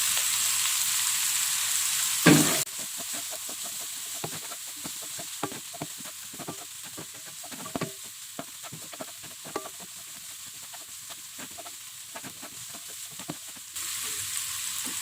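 Chopped red chilies and bird's eye chilies sizzle gently in a pan over low heat, with a steady crackling fry and frequent soft scraping taps from stirring throughout.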